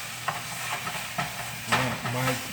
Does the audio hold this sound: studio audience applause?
no